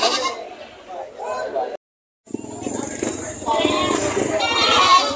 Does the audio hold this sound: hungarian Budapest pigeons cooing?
no